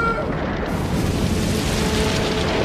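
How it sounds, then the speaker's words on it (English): The Klingon moon Praxis explodes in a Star Trek film, a loud, sustained roaring blast with continuous rumbling and crackling texture that fills the whole stretch without letup. "Many miners perished in the explosion."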